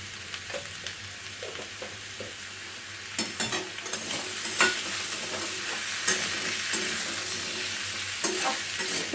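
Potatoes are stirred in a frying pan for a plain white potato curry, a low steady sizzle broken by repeated scrapes and taps of a spoon against the pan, close up and quiet.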